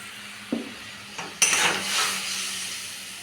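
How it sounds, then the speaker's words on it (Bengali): A spoon clinks against a pan while fish curry with coriander powder is stirred, producing a couple of light taps followed by a louder scrape and a soft sizzling wash. "তারপর একটু নাড়িয়ে দেব"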